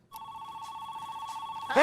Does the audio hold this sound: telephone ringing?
yes